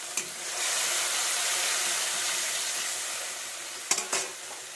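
Soybean curry with ginger-cumin paste and tomato sizzles steadily in a hot pan, a close continuous hiss with a couple of sharp clatters near the end as it is stirred.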